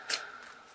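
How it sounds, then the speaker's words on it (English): A deck of tarot cards gets a brief riffle shuffle, one quick papery burst followed by faint flicking against a low room hiss, with no talking. "So I feel like these want to be shuffled."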